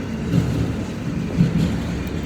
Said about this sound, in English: The train's still going through.